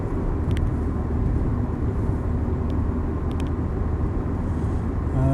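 Volvo V40 2.0T CD estate pulling hard with a steady, loud, continuous engine and road roar throughout, a turbocharged surge under load with a few faint ticks over the top.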